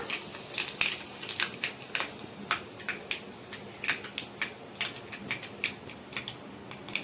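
Cumin, mustard seeds, coriander and curry leaves sizzling in hot oil, with a soft hiss under many quick, irregular pops and crackles close by, and no talking.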